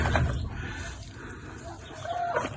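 Hens on a farm cluck in a low, scattered chatter, fairly close, with a brief higher call near the end and no talk.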